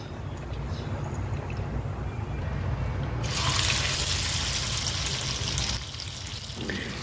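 Hamour fish dropped into hot oil with curry leaves, giving a steady, hissing sizzle that swells into a brighter, louder spatter partway through and then eases slightly.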